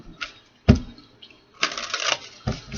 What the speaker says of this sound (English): One more shuffle for Sagittarius.